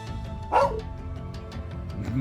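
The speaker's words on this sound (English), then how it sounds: "Ooh. Dog. Husky?" A husky barks once in the video game Trails of Cold Steel 2, a short, clear bark rising over steady game music and ambient background.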